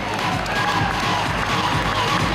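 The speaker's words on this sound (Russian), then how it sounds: "Аплодисменты." Brief audience applause with some cheering at a live prize-draw event for theatre tickets, steady, close and loud throughout with a busy crowd texture.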